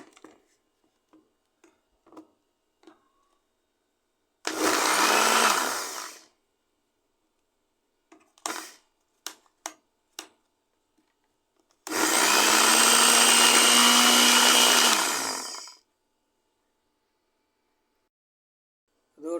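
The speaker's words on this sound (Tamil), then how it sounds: "இப்போ மூடிட்டு இதை அரைக்கலாம்." A mixer grinder blends mint chutney ingredients with pepper in two loud bursts of whirring, about three and four seconds long. Scattered clicks and handling knocks fall between the bursts.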